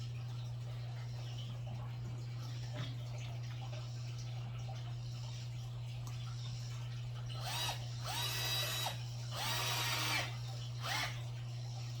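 A power drill drives screws into the wooden door of a nesting box in several short whirring bursts late on, over a steady low hum, with no talk.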